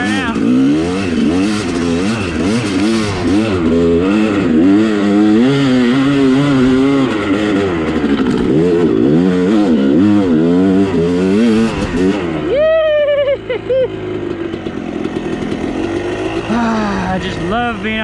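A dirt bike engine revs hard and continuously while riding across creeks, loud and close, with rising and falling pitch sweeps, then throttle drops near the end and a voice talks over the idling motor.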